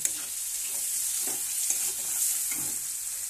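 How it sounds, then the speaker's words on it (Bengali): Garlic frying with whole spices in a pan of hot oil for a meat curry gives a steady, close sizzle, with faint stirring scrapes now and then and no voices. "রসুনটা দিয়ে ভালো করে কষিয়ে নিচ্ছি"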